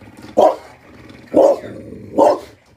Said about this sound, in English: He's barking at the lady in the buggy, pushing the little dogs